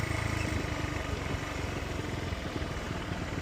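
A motorcycle engine drones steadily nearby with wind rush, a continuous rough mid-pitched rumble throughout.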